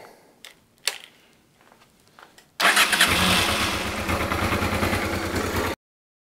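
A Honda Transalp 650 motorcycle engine fires up after a short crank and settles into a loud, steady idle that runs for about three seconds, close to the bike in a workshop during a valve adjustment service, before cutting off abruptly.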